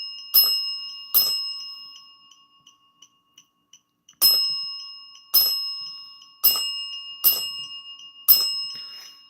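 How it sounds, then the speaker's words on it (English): A small bell rings in a house during a paranormal investigation, a pair of bright strikes, a run of faint ticks, then four more strikes, each ringing out briefly. "Can you ring that bell again?"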